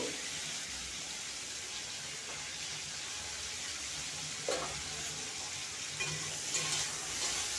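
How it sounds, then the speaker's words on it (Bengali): Potatoes frying in hot oil in a home kitchen while cooking a radish (mulo) dish make a faint, steady sizzle with occasional stirring scrapes, and nobody speaks. "এবার ওই তেলে আমি আলুগুলো দিয়ে আলুগুলোকে ভেজে নেব"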